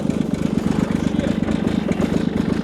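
A Kubota diesel engine cranks over on a cold day, the starter churning in a fast, steady rhythmic chug, loud and close, without catching.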